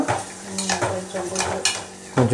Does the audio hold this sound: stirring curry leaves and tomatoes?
yes